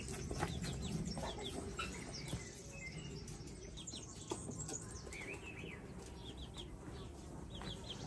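Baby chicks peep in high, rapid chirps on a farm with hens and ducklings around, soft clucks and rustling beneath, steady and close throughout.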